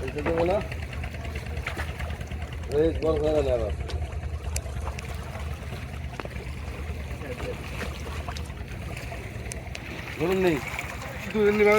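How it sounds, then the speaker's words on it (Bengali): A fishing trawler's engine drones as the boat arrives at a ghat on the Padma river, a steady low mechanical hum close by, heard under people talking. "এই যে দেখেন নতুন আরেকটি ট্রলার আসছে"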